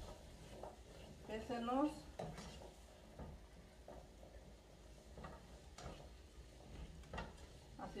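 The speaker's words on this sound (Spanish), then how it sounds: "Aquí voy a poner la papa" Potato pieces frying in a pan with onion and garlic, a steady sizzle with scraping stirs, under a voice talking.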